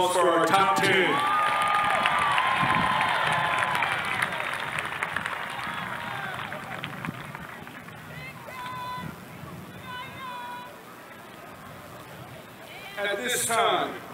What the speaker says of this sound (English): Can we get another round of applause for our top 10?